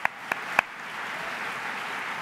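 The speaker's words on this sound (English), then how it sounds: "we have to give them a round of applause as well" A crowd applauds volunteer groups at an event with First Lady Michelle Obama, three sharp claps up front leading into a steady, moderately loud wash of clapping.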